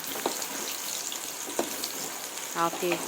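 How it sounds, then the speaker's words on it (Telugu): Paneer cubes frying in ghee in a kadai give a steady, soft sizzling hiss with a few faint clicks, and brief voice sounds come in near the end. "ఆ క్యూబ్స్ వేసుకొని ఫ్రై చేసుకోవాలి."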